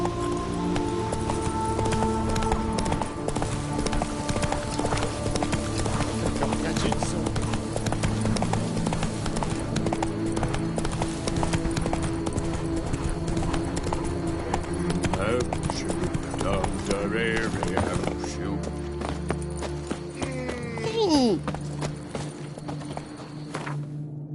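Horse hooves clip-clopping steadily in Witcher 3: Blood and Wine, a continuous loud rhythmic gait over game music and ambience, with a brief whinny-like sweep near the end.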